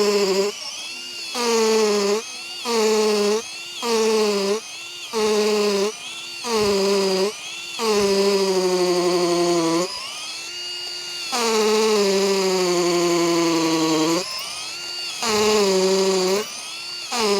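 Compact NRT PRO DC740 cordless brushless drill run in hammer mode with an 8 mm bit: repeated short whining bursts of the motor, stopping and starting in a rhythmic pattern, then two longer sustained runs, close and loud with no talking.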